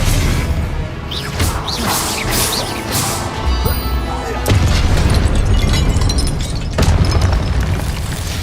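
Expelliarmus spell cast in the video game Hogwarts Legacy: loud, dense magical blasts and booming crashes that swell and surge without letup, with a jump in intensity midway and another near the end.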